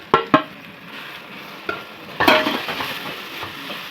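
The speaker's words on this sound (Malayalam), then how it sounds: "ഇളക്കി ആ പൊടിയുടെ പച്ച ചെവയൊക്കെ ഒന്ന് മാറുന്നത് വരെ ഇളക്കി കൊടുക്കാം." Chili, coriander and masala powders stirred in a hot pan for chicken curry, a few sharp spatula knocks followed by a soft, low sizzle.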